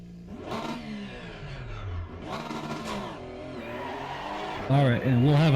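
A race car at the Nurburgring in a sim racing game revs and accelerates through rising and falling gear changes, ending in a loud, high engine whine, with someone talking over it.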